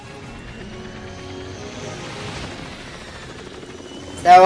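A helicopter flies in a scene from the film Darkness Rising, heard as a steady, droning rotor rumble throughout. A louder burst of noise cuts in at the very end.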